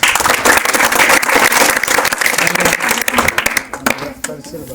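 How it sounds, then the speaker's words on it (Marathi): An audience at a Matheran Valley school event in Neral on tobacco control applauds to welcome guests, a loud, dense burst of hand clapping that thins out toward the end. "सगळ्यांकडून एक त्यांच्यासाठी आपण टाळ्या वाजून त्यांचं स्वागत करू"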